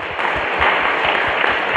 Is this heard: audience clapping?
yes